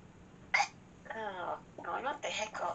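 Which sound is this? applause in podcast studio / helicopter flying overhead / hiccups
hiccups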